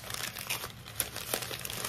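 Packing paper crumpled and crinkled by hand while flea market finds are unwrapped, a steady close rustle with a few sharper crackles.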